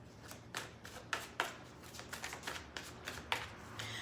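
Tarot cards shuffle close up in a run of quick riffling bursts and soft papery slaps, irregular in rhythm, with quiet gaps between the riffles and no voices.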